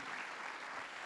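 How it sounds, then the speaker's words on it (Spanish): A church congregation applauding during a Sunday service, a brief dense wash of clapping, steady and fairly loud with no gaps. "Dele fuerte ese aplauso al Cristo de la gloria."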